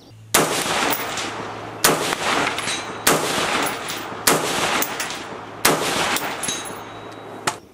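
A 10-inch short-barrel 5.56 rifle fires Hornady Black 75-grain ammunition in a string of loud, close, sharp shots about a second and a half apart, each trailing into a long outdoor echo.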